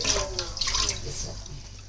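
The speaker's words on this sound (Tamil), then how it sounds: "ரெண்டு பானைக்கும் சரி சமமாக ஊற்று" Water is poured into two clay pongal pots during an outdoor Pongal festival, a short, steady splashing pour close by with a family talking over it.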